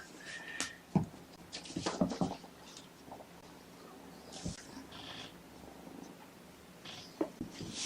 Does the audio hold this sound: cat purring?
yes